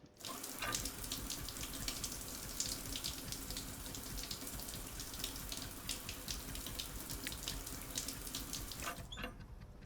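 Shower water running steadily in the space-survival game Stationeers, a continuous hissing splash that holds for about nine seconds and then cuts off near the end, with no talk over it.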